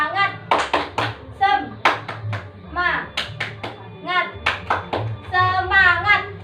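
Grade 4 pupils in an elementary classroom perform the 'tepuk semangat' rhythmic clapping cheer, repeated bursts of group claps in patterned beats interleaved with loud children's chanting voices.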